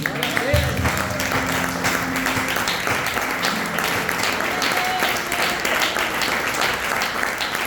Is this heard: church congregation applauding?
yes